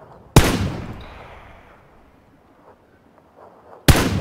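Two sharp, loud gunshots in PUBG, about three and a half seconds apart, each a hard crack with a long decaying echo that fades into quiet between them.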